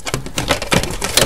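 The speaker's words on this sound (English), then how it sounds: "I'm using tin snips here because this is metal" Tin snips cut through thin sheet metal in quick, sharp snipping clicks, close and fairly loud, several cuts in an uneven rhythm.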